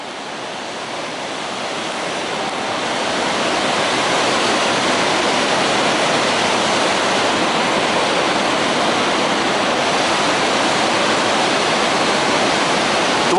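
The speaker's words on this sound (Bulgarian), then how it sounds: "Това да си под могъщите води, падайки на сантиметри от теб, е просто неописуемо." Roaring, steady wash of Iguazu waterfall heard from underneath the falling water, a dense, loud, unbroken rush that swells in the first few seconds and then holds at full force throughout.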